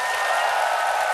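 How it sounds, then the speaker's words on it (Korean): Studio audience applause, a dense, even burst of clapping from many hands, loud and close, lasting only a moment. "다넬 쌤께도 박수 한번 쳐주시고"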